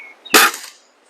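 A Diana 34 air rifle, before a tune-kit installation, fires a single sharp, loud crack that rings on briefly and then fades, alone and close.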